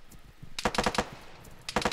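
AK rifle gunfire in two quick bursts of rapid sharp shots, the first longer and the second clipped short, fairly distant and ringing with no voices.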